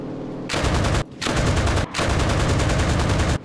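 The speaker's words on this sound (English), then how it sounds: "Oh, that's an anti-air gun" An anti-air gun in the video game Enlisted fires three loud, sustained bursts of rapid shots, each cut off by a brief gap, close and dominant with no talking.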